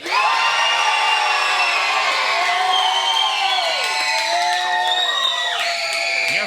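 Wrestling event crowd cheering loudly and continuously, a dense wash of shouts, whoops and high children's screams sustained throughout, close and full.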